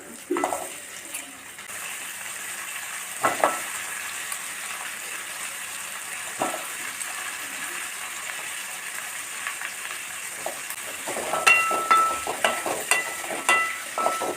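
Star gooseberries sauté in a pan with softened onion and tomato, giving a soft continuous sizzle broken by occasional scrapes and clinks of a spoon, busier toward the end.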